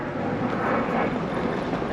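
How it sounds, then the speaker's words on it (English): A jet aircraft passes overhead above a dry lake bed in southern Nevada, a steady broad roar holding at an even level throughout, fairly loud with no talk over it. "The jet's flying over."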